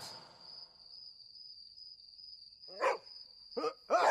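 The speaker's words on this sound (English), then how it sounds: "Hey, stop barking." A dog gives three sharp barks near the end, the first one loud and close, followed by two quicker ones, after a quiet stretch filled with a steady high insect-like whine.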